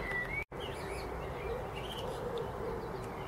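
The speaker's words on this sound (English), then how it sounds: "There's my little blue tit, keeping an eye on things there." A blue tit at an allotment gives a few thin, high chirps and short whistled notes, faint and scattered over steady outdoor background noise, with a brief dropout near the start.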